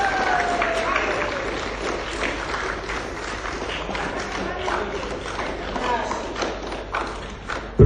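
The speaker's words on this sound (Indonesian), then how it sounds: "Marilah berikan aplaus yang luar biasa untuk Putri Sulistyaningsih." A large audience applauds a speaker at a motivational talk, a dense, steady wash of clapping that fills the whole stretch without pause, with a sharp thump near the end.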